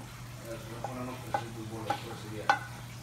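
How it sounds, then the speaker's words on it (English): Meat boiling in a pot as tomato is added: a steady bubbling simmer with a low hum beneath, broken by several sharp clinks and stirring knocks, close and fairly quiet, with no voices. "right now the meat is boiling already, so I'm gonna add the tomato."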